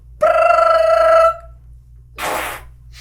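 A person's voice imitates a phone ringtone with one sustained, buzzy tone lasting about a second, followed after a pause by a short breathy noise.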